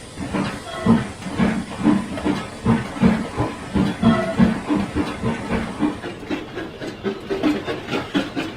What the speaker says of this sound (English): The train soon set off.